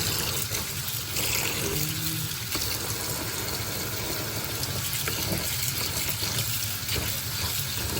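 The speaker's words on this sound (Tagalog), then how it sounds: "Tapos, huhugasan na natin yan. Hugasan natin para maganda." Chopped pechay (bok choy) being washed under running water in a home kitchen, a steady rushing and trickling wash that fills the whole stretch at close range with no talk.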